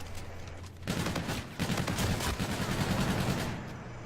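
Rocket and gun fire in a competitive esports video game match, heard as rapid bursts of shots and blasts. The firing stays dense and continuous for several seconds, then eases toward the end.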